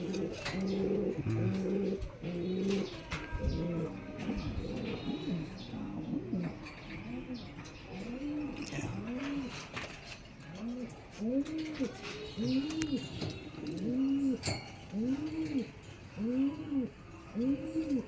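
A three-month-old young pigeon coos in repeated rising-and-falling phrases, close and steady, with other birds chirping faintly around it.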